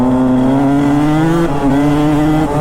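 A Yamaha YZ250X two-stroke dirt bike engine holds a steady, loud buzzing drone during a wheelie, with a slight dip and recovery midway, heard close and alone.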